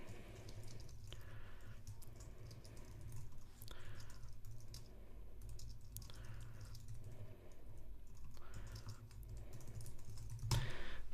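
Computer keys are typed in steady bursts with short pauses between them, the light clicking quiet and close as a vacation auto-reply message is written.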